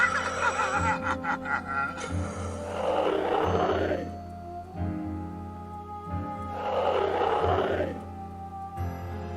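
The Moldscream Devil boss in Rakenzarn Frontier turns into a creature and lets out two long, rough, growling roars a few seconds apart over sustained game music tones.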